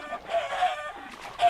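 Chickens clucking in the video game Tekkit, set off by a redpower machine firing eggs, giving a busy, close run of clucks and squawks with no talk.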